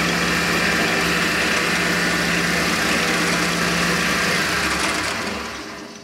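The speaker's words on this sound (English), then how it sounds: "So we'll just find the edge and start drilling away here." A machine drill whirs steadily and loudly through metal with a continuous motor drone, tapering off toward the end, while making a lathe outboard spider.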